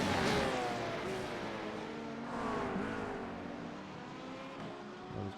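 An LMP2 prototype race car engine in iRacing, a steady, buzzing drone that revs up and down through shifts and holds close and continuous while trailing a GT3 car.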